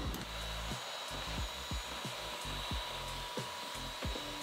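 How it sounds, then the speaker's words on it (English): A vacuum sucks leftover coffee grounds out of the grinder area of a Breville Barista Express espresso machine, a steady close whine with repeated short bumps and scrapes as the nozzle moves around. "Now you can vacuum whatever coffee left in here."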